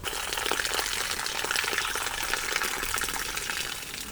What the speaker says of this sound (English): I'll wash up the peppers, tomatoes, onion.